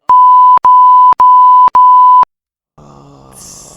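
Censor beeps over a spoken name on a podcast, four loud, pure bleeps in quick succession with short gaps, followed by a brief silence and a faint rustle.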